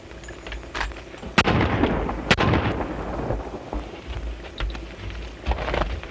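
Two sharp, loud gunshots crack about a second apart in a 1933 western film, set against a rumbling, noisy old soundtrack with no talking.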